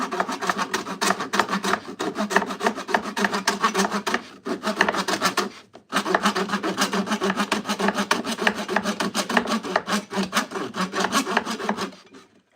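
Steady back-and-forth rasping of a hand tool trimming wooden dowels, close and continuous in rhythmic strokes, with one brief pause midway and no talking.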